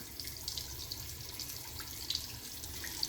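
Cold water runs steadily from a bathroom sink faucet, a soft, even hiss of flowing water with a few faint splashes, heard quietly and alone.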